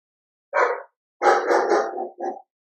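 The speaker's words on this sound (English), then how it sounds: "Apologies if you can hear the dog in the background." A big German Shepherd barks close and loud in three bursts, one short woof, then a longer run of rough barks, then a final clipped bark, with silence between.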